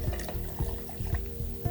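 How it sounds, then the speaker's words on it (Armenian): Water is poured into a simulated stomach-acid test sample before its pH is measured, a soft, close trickling that comes in brief, regularly spaced gurgling pulses. "Սրանից հետո ավելացնում ենք ջուր"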